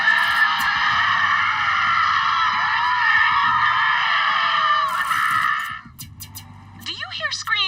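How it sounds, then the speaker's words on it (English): Screaming in the video game Borderlands 3 comes as a sustained, high, wavering chorus of shrill cries that holds for several seconds, then cuts off, leaving brief scattered sounds. "Do you hear screaming, or am I having another one of my episodes?"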